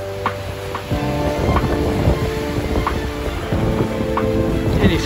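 Strong wind of about 40 knots buffeting a sailing boat on 4-5 metre ocean waves, loud steady wind rush and microphone buffeting with surging water swells, continuous and close.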